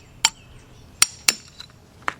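A hammer taps a bolt and grommet into a 9/16 deep socket while servicing a 2002 Honda Accord 2.3 valve cover. Four or five sharp metallic clinks come at uneven intervals, close and distinct.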